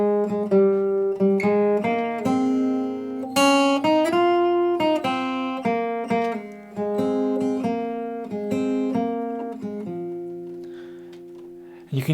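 The syncopated melody of a song is picked alone on guitar, single clean notes ringing out one after another at a steady, close level with no talk.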